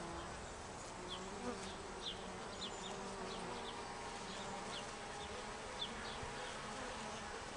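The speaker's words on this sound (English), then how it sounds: "It's a little activity at the doorway." Carniolan honeybees buzz at a hive entrance as foragers bring in pollen, a steady, soft, continuous hum with individual bees droning past close by.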